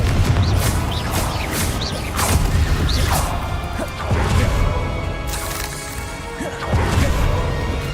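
Confringo fire spell blasts in Hogwarts Legacy, a run of sharp crashing bursts with a splintering edge, about seven in eight seconds, loud and close with rumbling game noise between them.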